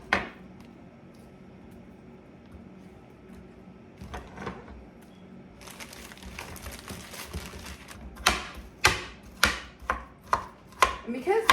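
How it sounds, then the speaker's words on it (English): Partially frozen pear halves and quarters being chopped into slices with a knife, starting as faint background noise and then a run of sharp, evenly spaced close chops near the end, with no talking. "I want to chop those up smaller too, because I left them in halves and quarters"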